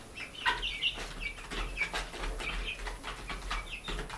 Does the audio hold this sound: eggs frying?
no